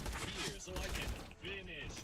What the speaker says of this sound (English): How are you still like shooting a gun?